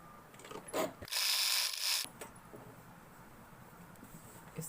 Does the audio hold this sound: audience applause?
no